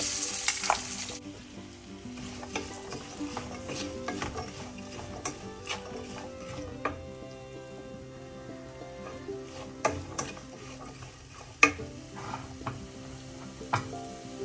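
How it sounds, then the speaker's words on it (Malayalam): Chopped onions frying in oil in a pan for quail egg masala, a steady close sizzle with occasional stirring scrapes and light clinks, with no talking. "അതേ ഓയിൽ പാത്രത്തിൽ നമുക്ക് 3 സവാള അരിഞ്ഞത്,"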